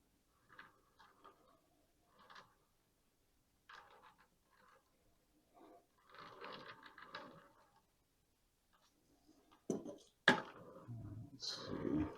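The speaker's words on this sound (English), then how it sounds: "I'm just going to go ahead and snip these off" Pruning shears snip branches on a cork bark jade (Portulacaria afra) bonsai: a series of faint, sparse clicks and crisp cuts, close and quiet, with a louder snap near the end.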